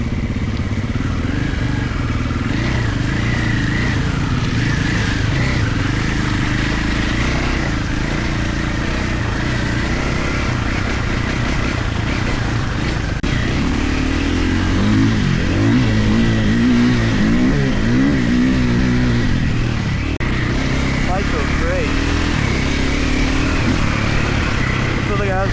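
A Triumph off-road motocross bike on its stock map is ridden with a steady engine drone and rising, falling revs throughout, loud and close, while a voice talks over it.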